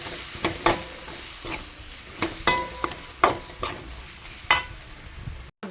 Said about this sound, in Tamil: தக்காளி, இஞ்சி பூண்டு பேஸ்ட்டு எல்லாம் போட்டு நல்லா வதக்கணும்